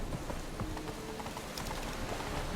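Roach the horse gallops in The Witcher 3, a steady rapid clip-clop of hooves running over game ambience at moderate level, with no voices.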